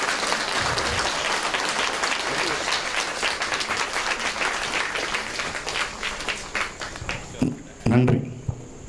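A seated audience at a centenary celebration of an ashram applauds steadily in a dense, sustained wash of clapping, fading near the end as a voice begins speaking.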